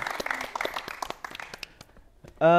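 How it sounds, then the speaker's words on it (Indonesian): A live audience at a campus talk show claps for a guest star, a patchy round of applause with scattered individual claps that thins out before a voice starts speaking. "Bisa tepuk tangan dulu untuk bintang tamu kita pada siang hari ini."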